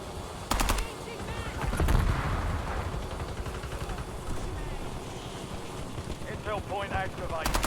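Gunfire in the Warzone video game, rapid shots and bursts layered over a dense, noisy battle mix, with a few sharp cracks standing out and speech mixed in.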